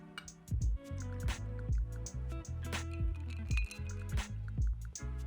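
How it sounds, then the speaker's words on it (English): Dry vermouth poured over ice in a glass, with a run of sharp clinks and ticks as ice cubes knock against the glass, close and distinct, against a quiet background. "we're gonna pour a ½ ounce of dry vermouth right on top of the ice"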